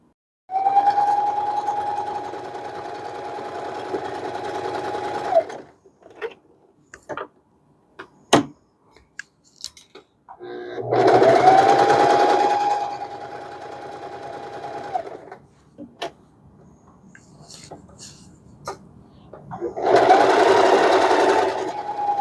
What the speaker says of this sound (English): now I'm going to use my sewing machine and do a straight stitch all the way around one patch